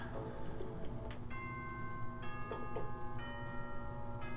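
A school announcement chime from the Danganronpa video game plays as a sequence of bright bell-like tones in a stepped ding-dong pattern, moderately loud over a steady background.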